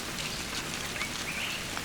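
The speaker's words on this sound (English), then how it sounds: "All of this rain." Rain falling during a trip in Colombia, a soft, even hiss of drops spread across surfaces, fairly faint and steady throughout, with a few faint bird chirps in the distance.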